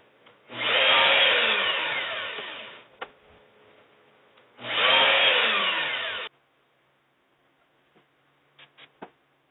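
A power drill drives screws into a wooden French cleat tool holder for a biscuit joiner, with two loud, close bursts of whirring of about two and a half seconds each, separated by a pause and followed by a few light clicks and taps.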